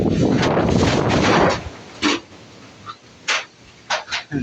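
Strong typhoon wind gusts and buffets a nearby microphone in a roaring rush for the first second and a half, then eases to softer intermittent gusts and brief noises.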